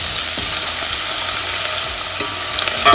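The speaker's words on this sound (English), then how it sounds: "Add cinnamon, cloves and cardamom pods and nicely saute this." Ginger, garlic, cinnamon, cloves and cardamom pods sauteing in a pan, giving a steady close hiss and crackle with a few light stirring scrapes and no talk.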